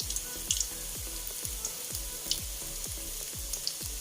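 Scotch eggs coated in sausage meat fry in hot fat, giving a steady bright sizzle broken by a regular series of soft pops and spits.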